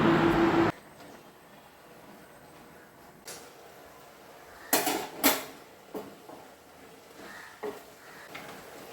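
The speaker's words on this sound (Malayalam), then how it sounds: "നമ്മുടെ ചോറൊക്കെ ഇവിടെ വെന്തിട്ടുണ്ട്. അപ്പോൾ അത് ഊറ്റിക്കൊണ്ടിരിക്കുകയാണ്" Cooked rice drained from a pot starts with a short, loud rush of pouring water. After that come quieter metallic clanks and scrapes of the pot and lid, a few sharp knocks near the middle, and no speech.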